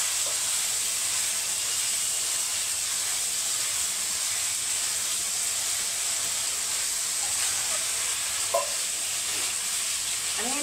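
Raw green bananas and potatoes fry in spiced oil, giving a steady, loud sizzle and hiss throughout, with a few faint clinks near the end.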